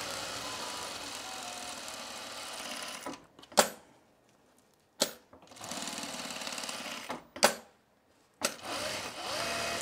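Sewing machine stitching plaid flannel at normal stitch length, running in steady bursts of rapid whirring separated by short pauses and sharp clicks as the fabric is adjusted.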